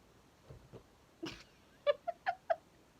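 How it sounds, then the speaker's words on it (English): Quiet cat meows, a few soft chirps then four short, evenly spaced mews near the microphone in a calm room. "we're probably gonna have to deal with silly noises from my kitty"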